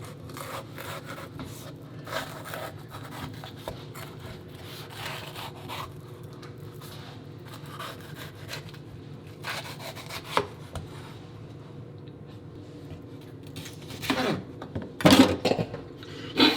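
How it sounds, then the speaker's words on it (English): A knife slices around the core of a red pepper on a cutting board, giving soft rubbing cuts and light taps that turn into a sharper burst of cutting near the end. "I'm going to bring the knife around the core."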